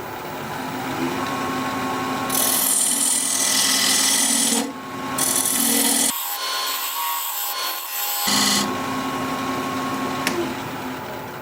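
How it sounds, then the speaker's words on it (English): A wood lathe turns a cracked workpiece while a diamond point tool squares the sides of a tenon, giving a steady, loud scraping and rubbing with a few brief pauses and changes in the cut. No one speaks. "I'm going to use this diamond point tool to square up the sides of the tenon."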